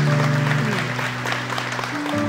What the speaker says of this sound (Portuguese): Jamais, aplauda o Senhor.